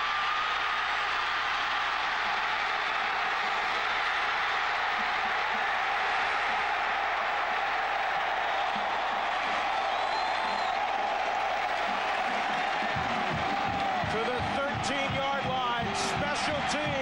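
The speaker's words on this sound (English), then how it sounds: "Applause" A stadium crowd at a 1998 Missouri-Nebraska college football game gives a steady roar of applause and cheering, with sharper claps and shouts building toward the end.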